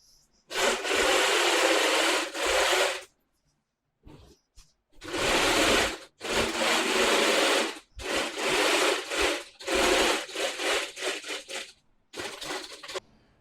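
A sewing machine stitches a side seam on a garment, running in several loud, close bursts of a few seconds each with short silent pauses between them.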